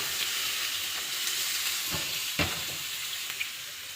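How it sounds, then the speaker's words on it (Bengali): Bori lentil dumplings from Bangladesh fry in oil in a pan, a steady close sizzling hiss broken by a few brief pops and stirring scrapes, with no one talking. "আর এই পাশে দেব আমি বড়ি ভাজি বাংলাদেশ থেকে আনা বড়ি"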